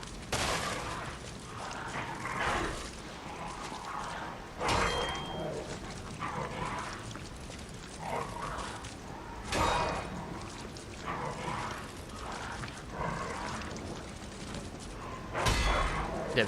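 A dog in the video game Lies of P barks and attacks during combat. Repeated sharp barks and clanging hits come over dense, noisy fight sounds.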